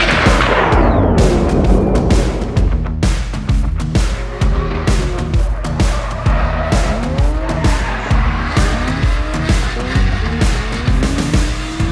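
A drift car circles an Irish racetrack, engine roaring loudly as tires squeal in long repeated skids, with sharp bursts of revs and gear changes.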